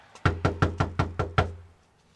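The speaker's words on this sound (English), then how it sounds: "I know you hear these loud ass ashy knuckle knocks." Bare knuckles pound a door seven times in a brisk, even sequence, close and loud, then the sound fades into quiet.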